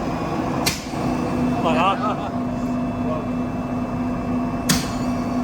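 A biomass boiler cleans itself by firing shots of compressed air through its heat exchanger to clear soot. Two sharp, loud bursts of air sound about four seconds apart over a steady machine hum, with a voice speaking between them.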